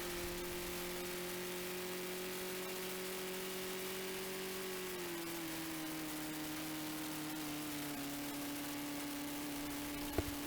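An older farm tractor fitted with a three-point PTO winch drives along snowy woodland trails while skidding saw logs. Its steady mid-pitched engine drone holds throughout, dropping slightly in pitch partway through, with no talking.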